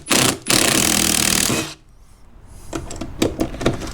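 An impact or power tool spins out 7 mm bolts holding plastic end covers on a 2020 Jeep Gladiator/Wrangler JL bumper, with two loud sustained whirring bursts, a quieter pause, then several short sharp rattling clicks.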